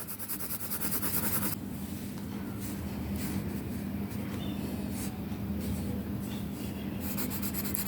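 A colored pencil scratches steadily across the paper of a drawing book, a continuous soft rasping with small strokes, heard close and alone with no talk.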